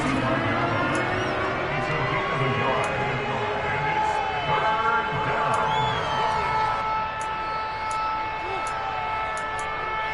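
A stadium crowd at an American football game roars steadily, a broad sustained rumble with whistles and shouts swelling ahead of a big third down, while a commentator talks over it.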